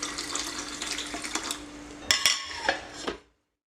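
Millet and fenugreek seeds rinsed in a 100-gram cup, with splashing water and clinks of the cup and a spoon, close and moderately loud, then stopping abruptly.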